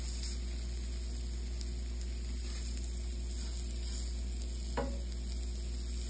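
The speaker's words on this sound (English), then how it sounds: "I got the other ones frying up now" Meatballs made from two kinds of meat fry in a pan, giving a steady, close sizzle that runs the whole time with a few faint clinks and one brief scrape near the end.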